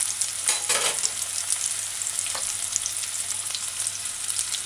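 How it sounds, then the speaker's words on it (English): Cubed sweet potato stir frying in a hot pan gives a steady, close sizzle, broken by a few brief scraping stirs, with no voices. "cube pieces of sweet potato, and just stir fry this"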